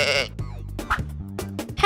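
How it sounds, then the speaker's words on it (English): Close by on a farm, a sheep gives a short, loud, strained bleat, followed by a few brief softer sounds. "Sheep."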